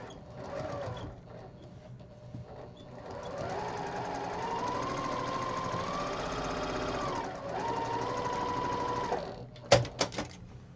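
A sewing machine stitches through a bulky quilt block. Its motor whirs in a long run that slows and speeds, then stops, and a few sharp clicks follow near the end.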